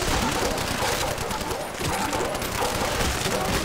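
A Browning machine gun fires in sustained rapid bursts in the Nazi Zombies video game, loud and dense gunfire filling the whole stretch, with voices partly under it.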